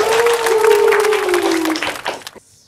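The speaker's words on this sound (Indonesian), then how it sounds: "Ayo, tepuk tangan." A studio audience claps along with media guests, a dense burst of applause under a sustained sung or hummed tone, fading out abruptly near the end.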